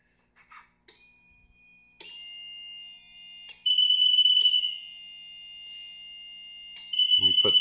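A liquid level sensor's electronic alarm sounds in steady, piercing high-pitched beeps, starting and stopping several times with short clicks and handling noises between.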